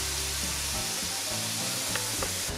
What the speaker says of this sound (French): faire, entre guillemets, frire un petit peu les épices avec les oignons et l'ail dans la poêle